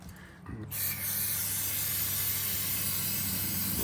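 Degreaser sprays from an aerosol can onto Harley-Davidson brakes, a loud, steady hiss that starts abruptly after a brief pause and runs unbroken until the end.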